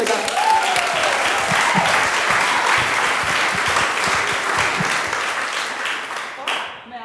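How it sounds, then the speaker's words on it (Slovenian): Audience applause for the first performer at a school show, dense clapping from a full hall that stays strong for several seconds, then fades and cuts off near the end. "Lepo prosim, en velik aplavz za prvega nastopajočega."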